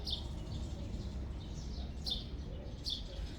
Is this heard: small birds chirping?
yes